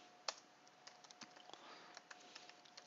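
Faint keystrokes tap on a computer keyboard in an irregular quick patter over a low background hiss, without speech.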